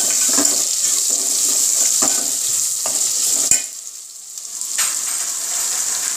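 Potatoes fry in a pan seasoned with salt and turmeric, a close, steady sizzle broken by repeated scraping stirs of a spoon, with a short lull before the frying hiss returns.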